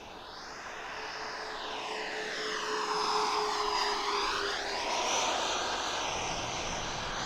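A radio-controlled MiG-29 jet model flies slowly overhead with full flaps and gear tucked, its steady whine sweeping down and back up in pitch as it passes, loud and continuous with no talking.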